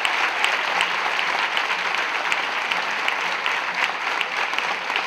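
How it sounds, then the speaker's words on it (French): An audience applauds steadily at an annual November celebration speech, a dense, even wash of clapping from many hands that holds at a constant level throughout, with no talking. "Et ceci, acclamez Dabo."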